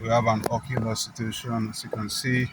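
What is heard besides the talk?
None of the usual background noises is heard.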